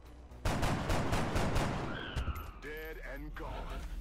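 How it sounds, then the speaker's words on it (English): A burst of rapid gunfire from the video game XCOM: Enemy Unknown, loud and continuous, followed by game effects as someone talks over it. "When you need clutch shooting, you can't beat Beetober"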